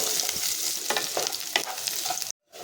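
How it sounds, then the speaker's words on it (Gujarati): Sliced onions sautéing in a pan for sooji masala dosa filling, a bright continuous sizzle broken by scraping stir strokes, close and loud, cutting off abruptly near the end. "તો ડુંગળીને આપણે એકદમ સરસ રીતે અહીંયા સાતરી લઈશું।"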